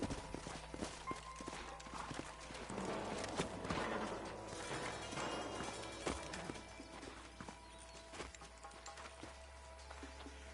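Horses' hooves clip-clopping in the Red Dead Redemption video game, a faint, irregular patter of hoof steps over a low constant ambient hum, with creaks and scattered game sounds.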